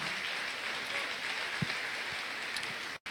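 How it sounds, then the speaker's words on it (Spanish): Church congregation applauding during a Spanish-language Sunday service, a steady dense wash of clapping that fills the whole stretch at moderate distance before stopping abruptly at the end. "Vamos a darle un aplauso con alabanza"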